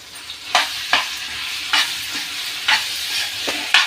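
Garlic and ground mango pickle fry in a pan, a soft constant sizzle broken by about eight sharp scraping stirs at a fairly regular pace, close and clear with no talking.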